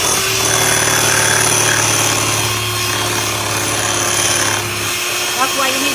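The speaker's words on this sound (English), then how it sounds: "we're beating those egg whites so they get nice and fluffy" An electric mixer beats egg whites for angel food cake in a big bowl, giving a close, steady, continuous whir that never lets up.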